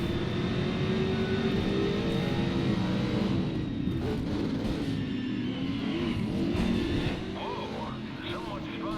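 A race car engine in the video game Race Driver: Grid, with minor engine damage, roars steadily and loudly throughout, rising and falling with revs and surrounded by other cars, while a voice talks over it.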